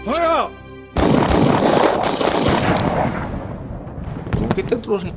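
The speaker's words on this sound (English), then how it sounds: "The silence was followed by the sound of gunfire." A voice sounds briefly, then a burst of sharp cracking shots rings out in rapid succession, loud and close, fading into softer noise and voices.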